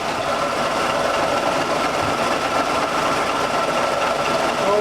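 A restored disk belt sander running steadily, a constant broad mechanical whir and hum close by, holding an even level throughout.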